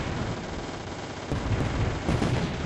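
Artillery guns firing in the M.A.C.E. Tower Defense video game, a dense stream of rumbling low booms and cracks that swells louder after the midpoint, steady and continuous with no pauses.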